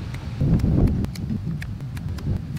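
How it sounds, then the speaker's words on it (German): Strong gusty wind buffeting an outdoor campfire spot, roaring low and rumbling into the microphone in uneven bursts, with faint rustling and clicks. "Dieser scheiß Wind."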